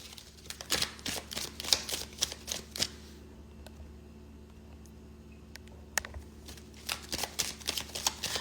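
Quick riffling bursts of cards being shuffled, up close, with a quiet pause in the middle before more brisk shuffling.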